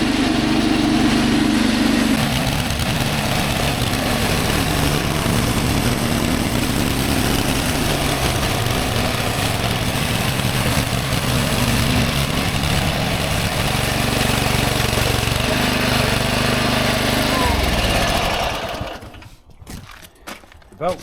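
A Westermann motorised moss brush engine runs loud and steady for most of the stretch, a rough mid-pitched drone that cuts out near the end, leaving brief knocks and quiet.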